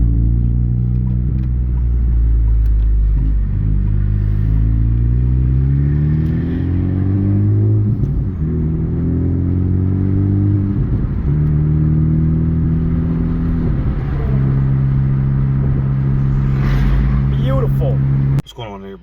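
A Honda Civic Type R FL5 fitted with a Hybrid Racing shifter is driven. Its engine drones loud and steady throughout, with the pitch climbing and dropping through gear changes, and it cuts off abruptly near the end.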